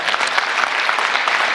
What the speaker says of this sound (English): You give her a round of applause.